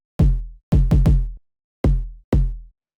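Original unprocessed kick drum sample for lo-fi house drums, softer in character, played alone as a loose pattern of five deep thumps, three close together then two spaced apart, each with a short decaying low tail.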